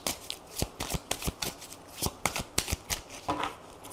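Tarot cards being shuffled, a rapid run of crisp riffling flicks and soft slaps close to the listener, steady and uneven in rhythm, with no talking over them.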